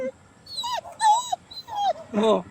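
A tired dog named Momo whimpers and whines in high, wavering cries, three or four drawn-out yelps close by, with a person speaking softly over it.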